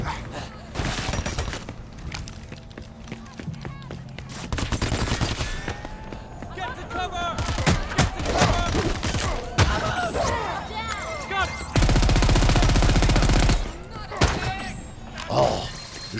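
Gunfire in the Crackdown 3 video game, bursts of shots and shattering impacts through a busy, loud mix with music and effects, sustained rapid fire near the end.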